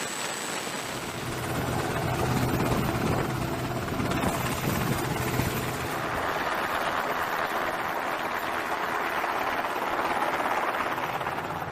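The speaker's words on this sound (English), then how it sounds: "Helicopters, such as the MH-60 Seahawk, work between supply ships and submarines to transfer goods in the ocean." A US Navy MH-60 Seahawk helicopter flying overhead, its rotor and engine producing a loud, steady roaring wash that swells after a quieter start and holds for the whole stretch.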